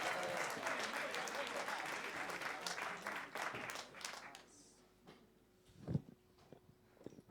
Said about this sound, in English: Then let's have the clapping.